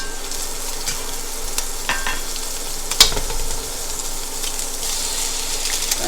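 Butter sizzles steadily in a hot pan for chicken fried rice, a loud, continuous hiss with a brief clatter partway through.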